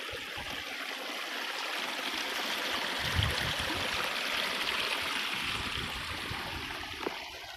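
Water runs down a homemade artificial rock creek toward a road, a steady close rushing and trickling babble that continues without a break and without voices.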